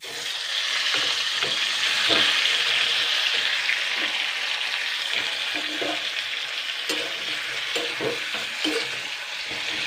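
Peeled tomatoes dropped into a hot pan, a loud, steady hiss of sizzling that swells early and holds, with occasional light stirring knocks, close and continuous with no talk.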